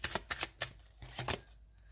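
A tarot card pulled from the deck and set down on a table, a few quick soft slaps and rustles, close and quiet with no talk.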